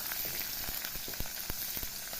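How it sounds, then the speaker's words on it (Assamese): Chopped onions fry in hot oil in a home kitchen, a steady close sizzle with faint crackles and light pops running throughout. "পিয়াজখিনি ফ্ৰাই কৰি লওঁ একদম ৰংচোৱা হোৱালৈকে"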